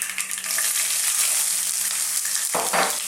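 Ginger hitting a hot curry pan for a chicken potato curry sizzles loudly and steadily, a dense continuous frying hiss with a brief stirring scrape near the end.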